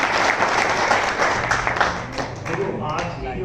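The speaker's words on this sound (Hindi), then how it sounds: "एक बार जोरदार तालियां अपनी लगा दीजिए" Audience applause at an indoor seminar gathering, a continuous burst of clapping that stays strong and fairly close, with voices mixed in and a low hum underneath.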